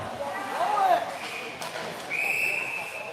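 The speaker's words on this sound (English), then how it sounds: "the referees blow the whistle." A referee's whistle at a live ice hockey game cuts through crowd and arena noise, with a short high blast near the end and a commentator talking throughout.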